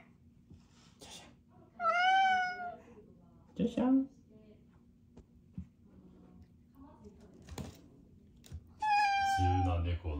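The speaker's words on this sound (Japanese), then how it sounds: "自由な猫の叫び声を堪能できる。" Cats kept apart yowl and meow in drawn-out, wavering calls that come in separate bursts, with quiet talk and small bumps between them.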